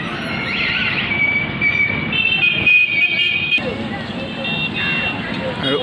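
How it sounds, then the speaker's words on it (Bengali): A local train passes near Dum Dum metro station in Kolkata with a steady rumble and a sustained high horn tone. Traffic noise and a person talking sit underneath. "ওই সাইড দিয়ে দেখা যাচ্ছে ট্রেনটা যাচ্ছে ওটা লোকাল ট্রেন"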